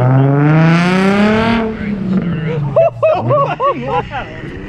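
A Nissan 350Z with a full titanium Tomei exhaust revs loudly up through a rising note, then settles as people talk excitedly nearby.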